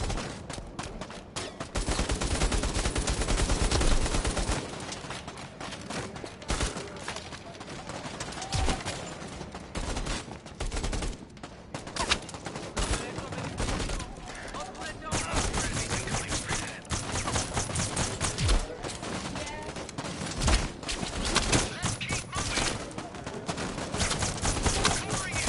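A VR shooter game produces a long stretch of rapid, clattering gunshots, dense volleys that come and go over the whole span, with a louder burst near the start.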